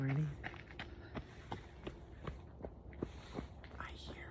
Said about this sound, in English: I hear a runner.